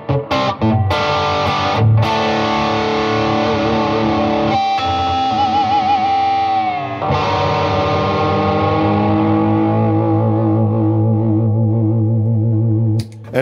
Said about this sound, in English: this Alnico humbucker takes overdrive great